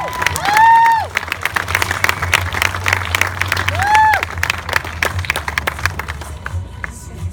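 An audience at a high school bass fishing national championship weigh-in applauds and cheers: dense, sustained clapping with whoops and shouts, a couple of loud rising cheers, fading slightly toward the end.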